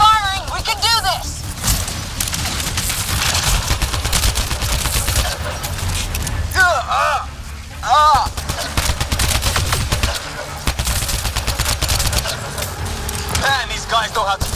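Gunfire in the video game Mass Effect Andromeda, with repeated rapid bursts of shots and heavy combat noise running throughout while characters shout and talk over the battle.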